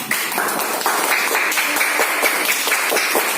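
Students in a classroom clap together in loud, close, slightly uneven bursts that continue without pause, with no speech over them.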